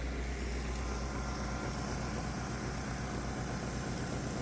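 Small 212cc Predator single-cylinder engine running steadily on a test bench, a constant close mechanical drone with no talk over it.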